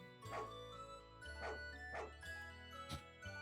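A small dog barks in the RPG Maker game Chronicles of Ardia, four short yappy barks spaced about half a second apart over a steady tonal game music bed.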